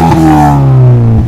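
A car engine with stainless steel headers, a full exhaust and a Superchips stage 2 remap revs loudly and close by, holding a strong, steady droning note with a brief dip near the start and another near the end.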